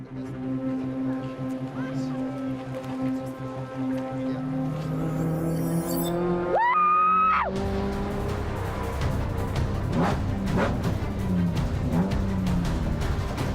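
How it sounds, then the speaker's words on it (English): A car on a test drive to check its spongy brakes, steady engine drone with rising revs, a brief high squeal midway, then a rougher rumble and clatter as it slows. "We need to test it just to make sure brakes are working and how far the car pulls to the left"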